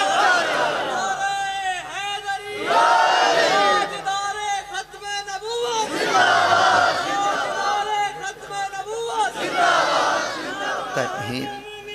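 A large crowd shouts slogans in loud rhythmic waves, several surging bursts of massed voices rising and falling over about twelve seconds.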